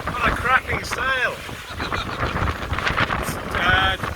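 Wind buffets a sailboat in the Singapore Straits in a steady, rough rush, with water noise beneath it. Voices talk and cheer over the wind.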